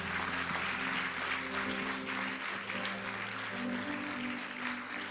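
Church congregation applauding, steady sustained clapping from a large crowd with a low musical drone beneath it and no talking.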